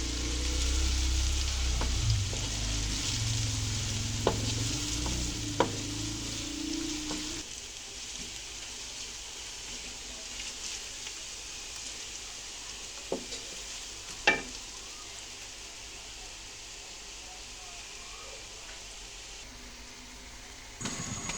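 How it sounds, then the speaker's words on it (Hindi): A medium chopped onion frying in a pan, a steady close sizzle that eases after the first few seconds, broken by occasional sharp clicks and scrapes of stirring. "ये प्याज को मैं अच्छी तरह फ्राई कर लूँगी पहले।"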